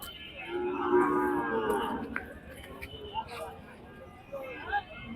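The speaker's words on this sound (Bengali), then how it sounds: "দর্শক এই যে গরু দেখতে পাচ্ছেন আপনারা" Cattle low at a busy rural cattle market in Shahapur, Dumuria, Khulna: one drawn-out moo sounds near and clear, then fainter crowd murmur and scattered background noises follow.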